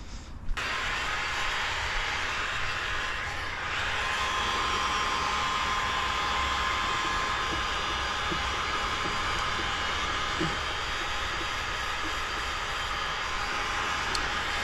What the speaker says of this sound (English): let's go ahead and heat seal this mirror